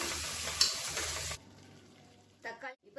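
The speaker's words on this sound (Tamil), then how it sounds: "இப்போ இதுவும் நல்லா வதங்கணும், எண்ணெய் தெரிஞ்சு வரட்டும்." Tomatoes frying in oil while being stirred make a loud, close sizzle for just over a second, then the sound cuts to near quiet, broken by a couple of short bursts of noise near the end.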